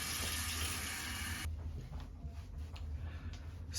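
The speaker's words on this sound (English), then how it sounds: "So let's rinse off the cleanser." Water runs steadily from a tap while face cleanser is rinsed off, a broadband wash that is louder for the first second and a half, then continues more softly with small splashes.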